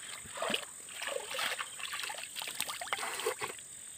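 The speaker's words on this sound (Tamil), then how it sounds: "தண்ணி அலம்புற சத்தம் கேட்குறாடே" Water sloshes and splashes in irregular bursts over a steady background hiss, with soft trickling between the louder splashes.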